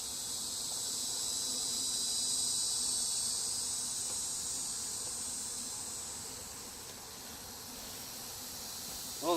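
Honeybees buzzing around an opened hive, a continuous high droning hum that swells and fades slightly, fairly faint and close, with no voices.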